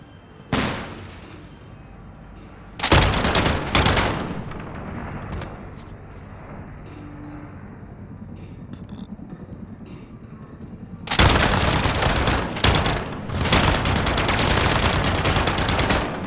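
RAAL LMG firing in Call of Duty Modern Warfare, with several loud bursts of rapid automatic gunfire separated by quieter game ambience.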